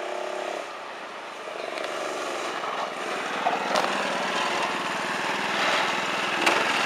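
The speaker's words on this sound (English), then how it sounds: "That's my go-kart really fast." A go-kart powered by a 5.5 HP motor runs steadily nearby, a loud, continuous buzzing engine drone that rises slightly as it revs, with brief louder bumps.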